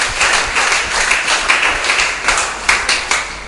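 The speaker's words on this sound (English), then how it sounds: "Let's give a hand clap for this." An audience at a church healing service claps together for a few seconds. The clapping is dense and steady with soft rhythmic surges, and no voices are heard over it.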